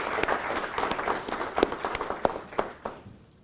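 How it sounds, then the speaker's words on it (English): Scattered applause from a small press-conference audience for gold sponsors, with individual sharp claps standing out over a lighter patter, building and then thinning out toward the end. "How about a round of applause for our gold sponsors?"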